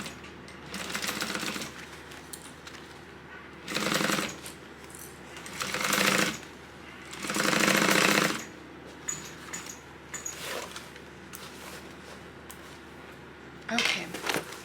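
Sewing machine stitching a three-eighths inch seam on a tote bag, several short bursts of nearby mechanical whirring separated by pauses, with someone talking between them and small handling clicks.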